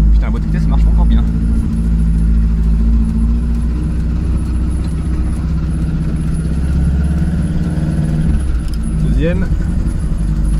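An old car, driven again after sitting unused for 29 years, runs with a steady low engine drone from inside the cabin, with someone talking over it.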